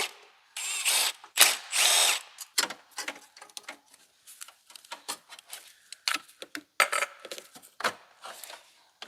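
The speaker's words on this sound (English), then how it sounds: "I can't get the power ratchet in here, but that's okay because I got this little ratchet." A small hand ratchet clicking in quick bursts while removing a bracket near the spark plugs of a Mercedes engine, close and fairly loud, with short pauses between runs of pawl clicks.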